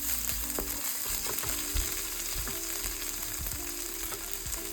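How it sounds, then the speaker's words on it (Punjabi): Garlic and ginger paste frying in a pan for a paneer lababdar, a steady loud sizzle with occasional scrapes of stirring underneath, close up and without any voice. "ਆਪਾਂ ਜਿਹੜਾ ਲਸਣ ਤੇ ਅਦਰਕ ਦਾ ਪੇਸਟ ਪਾਇਆ ਉਹਨੂੰ ਥੋੜਾ ਜਿਹਾ ਸੇਕ"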